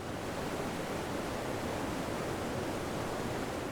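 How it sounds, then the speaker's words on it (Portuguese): Três Barras waterfall, formed by the Cubas and Tijucal rivers, roars in a steady, dense broadband rush of falling water that stays even and unbroken throughout, with no voices present. "A Cachoeira de Três Barras é uma cachoeira de fácil acesso, está a uns 50 metros do asfalto."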